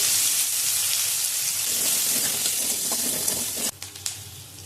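Whole cumin and chopped onions sizzling in mustard oil in a home kitchen, a loud, continuous crackling hiss that briefly drops and then resumes with a few stirring clatters.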